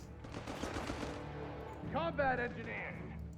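MG42 machine gun in Company of Heroes 3, a German team battling US forces, rattling in dense rapid bursts through the first half, then giving way to other battlefield noise while a commentator talks throughout.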